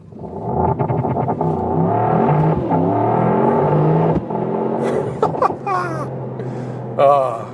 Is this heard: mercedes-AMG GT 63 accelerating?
yes